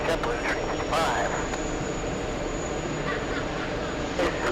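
A JetBlue jet airliner taking off from runway 31 left at JFK airport, a continuous broad roar throughout with radio voices talking over it.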